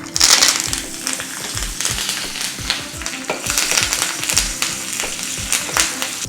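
Mustard seeds, dried chili pieces, a pinch of hing and curry leaves fry in hot oil for a rasam tempering, giving a loud crackling sizzle with scattered pops and stirring scrapes, no talk.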